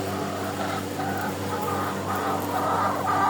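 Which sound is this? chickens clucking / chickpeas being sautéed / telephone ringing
chickens clucking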